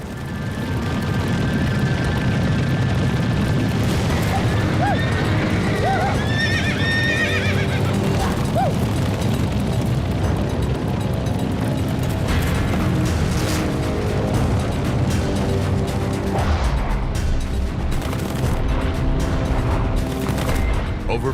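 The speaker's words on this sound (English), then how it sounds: "Teddy Blue hears what every cowboy dreads: stampede." A thundering cattle stampede rumbles loudly and continuously, pounding hooves mixed with whinnies and bellowing animal cries, dense and close throughout.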